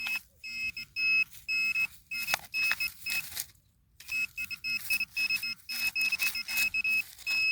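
A metal detector sounding while a man searches for buried metal, giving repeated short bright electronic beeps in irregular bursts, close, with a brief silent pause midway and no talk.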